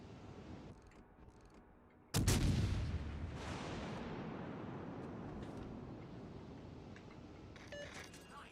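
A heavy naval gun salvo in the World of Warships Legends game booms suddenly and loudly, then trails off in a long rumbling decay, with faint game effects before and after.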